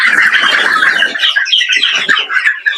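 Chickens at a farm selling chicks and eggs, a close, loud chorus of overlapping squawks and high clucking calls that carries on without pause, with no talking.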